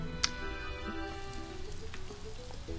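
Rain falls in the farming game Story of Seasons: Pioneers of Olive Town, a soft steady patter with game music and a single bright chime near the start.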